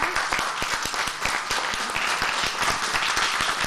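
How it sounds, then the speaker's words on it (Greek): A studio audience applauds students of a music school on a Greek television programme about traditional music, with dense, steady clapping and sharp individual claps standing out close by. "Ένα χειροκρότημα."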